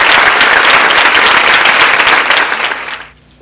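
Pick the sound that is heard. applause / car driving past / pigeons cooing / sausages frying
applause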